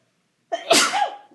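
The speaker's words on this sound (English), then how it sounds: "I'm sorry if I sneeze." A single loud sneeze bursts out after a moment of silence, with a sharp breathy onset trailing off quickly.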